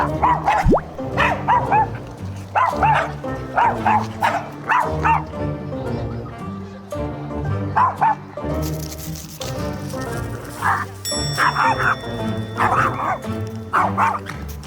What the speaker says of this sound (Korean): 뒤로 또 돌아서 짖고.